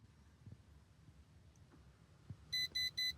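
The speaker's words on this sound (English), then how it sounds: "you'll hear a beep confirming it goes back to the factory functions" Three short, bright electronic beeps from a Ford F-150 tow mirror sound in quick succession at the end, following faint mechanical clicks and a quiet background.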